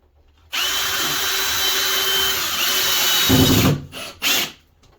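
Power drill driving screws into bathroom shower trim, a steady whine for about three seconds that bogs into a lower grind as the screw seats, followed by two short bursts.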